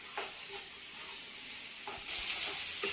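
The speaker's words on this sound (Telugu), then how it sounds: "ఇలా వేయించుకుంటే చాలు, మరీ ఫ్రై చేయకుండా ఇలా ఉంటే సరిపోయింది" Eggs with green chillies frying in a pan, a steady close sizzle with occasional stirring scrapes and light clinks, the frying growing louder and brighter toward the end.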